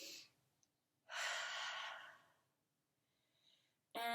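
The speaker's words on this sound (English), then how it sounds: "we're going to take a deep breath in" A single slow, deep breath drawn in during a children's yoga session, a soft airy inhale lasting just over a second, then quiet, with another breathy sound starting at the very end.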